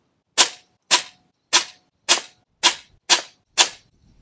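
Seven sharp, close shots from a PCP air pistol, the last of a third magazine, fired alone at an even pace of roughly one every half second, each a crisp crack with a brief ringing tail.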